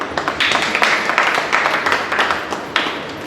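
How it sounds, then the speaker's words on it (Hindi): Scattered, moderately close hand clapping from a congregation gathered in a church, an uneven run of claps with irregular bursts and no speech over it. "आप सब लोग अपने लिए तालियां मारें।"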